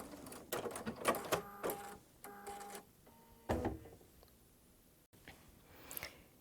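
An embroidery machine stitches with silver and light gold metallic thread, a rapid mechanical whirring and clatter in short bursts with tonal motor whine between pauses, close and clear with no speech.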